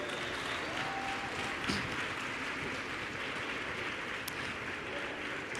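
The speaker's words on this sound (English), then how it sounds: "Let's give her a round of applause as she goes back to take her seat." Audience applause at a women's leadership summit as a speaker returns to her seat, a continuous even patter of many hands, fairly faint and distant throughout.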